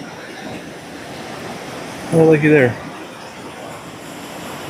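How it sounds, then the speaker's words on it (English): A small stream with little waterfalls gives a steady, broad rush of flowing water throughout, with a person briefly speaking over it midway. "Some small waterfalls up there."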